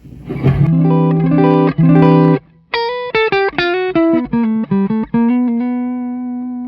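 A clean electric guitar plays through a Cornford Hellcat amp: strummed chords, then a run of single notes ending on a sustained ringing tone.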